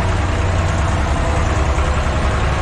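An Ursus C-330 or Massey Ferguson 255 tractor engine idles nearby with a loud, continuous low chugging rumble and no voices over it.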